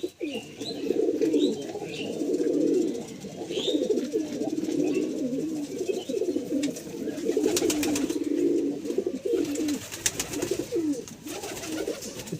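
Pigeons coo in low, throaty, overlapping calls close by, with occasional flapping and handling noises and faint chirps, continuing throughout without speech.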